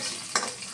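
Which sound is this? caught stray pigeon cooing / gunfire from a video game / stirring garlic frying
stirring garlic frying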